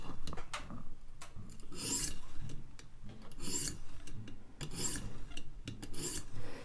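A Gavko Thresher knife blade is drawn across a 600-grit sharpening stone in steady rasping strokes, roughly one per second, close and moderately loud with no talk.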